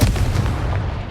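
A Confringo fire spell blasts in the Hogwarts Legacy video game, a single loud, close booming explosion that rumbles and fades over about a second, with no voices.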